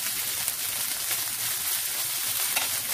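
Ginger paste frying in a pan over low to medium flame for a pav bhaji, a soft, steady sizzle with faint crackles and occasional stirring.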